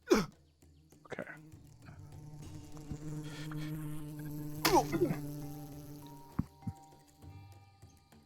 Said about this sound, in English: Tired of these bees.